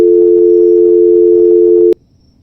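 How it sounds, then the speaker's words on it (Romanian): A loud, steady electronic telephone tone rings in the Night Clerk video game, holding one sustained pitch for about two seconds before cutting off abruptly into near silence. "Putea să fie mai zgomotos telefonul ăla?"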